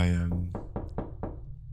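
Four knocks on a door in a video game, evenly spaced and fairly close, following a speaking voice.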